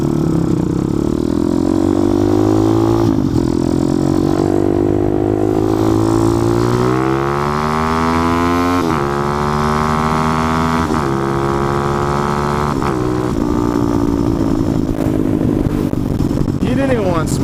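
A motorcycle engine revs and accelerates hard while racing an IS 300 car on a multi-lane road, its rising and falling tone sustained and loud throughout, with occasional shifts, as someone talks over it.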